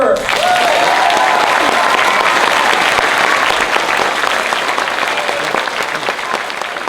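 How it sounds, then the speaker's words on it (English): Loud, sustained applause from an audience at an elementary school fourth grade concert, a thick wash of clapping that holds steady and eases slightly toward the end, with a voice briefly audible at the start. "And a round of applause for Mrs. Weaver."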